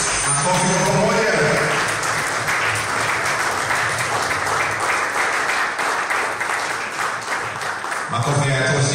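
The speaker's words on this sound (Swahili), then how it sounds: "Kwa pamoja, makofi wote tafadhali. Makofi kwa pamoja." A large crowd claps together on cue, loud sustained applause filling the room, with a voice over a loudspeaker at the start and again at the end.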